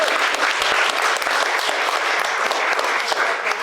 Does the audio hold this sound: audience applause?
yes